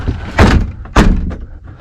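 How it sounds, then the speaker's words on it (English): The cabin door of a 1968 Starcraft Islander boat shut twice in quick succession, two loud, close thunks with a latching clack, each followed by a brief rattle. "Door still shuts."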